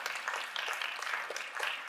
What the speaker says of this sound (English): Can we clap that up?